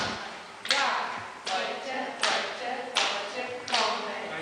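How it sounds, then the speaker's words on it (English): Single hand claps in a workshop setting at the MIT Media Lab, four or five sharp, evenly spaced claps about a second apart, each followed by a short ringing decay in a reverberant room. "I just saw him clap"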